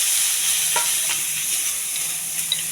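Onions sizzle in a little oil on a hot pan, a loud, even hiss of frying heard alone with a couple of light utensil taps.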